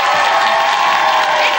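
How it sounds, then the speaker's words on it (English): Studio audience applauds during a live TV music show, a brief, steady wash of clapping and crowd noise throughout. "Come on, a round of applause."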